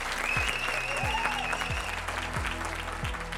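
Summit audience applauding steadily for a group asked to stand, dense continuous clapping filling the room, with a few voices faintly beneath it.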